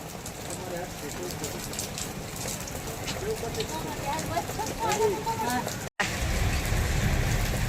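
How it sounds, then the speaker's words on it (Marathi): Rain hisses steadily in the background while someone talks over it, with a brief cut near the end. "पावसाने लई आड लावलंय"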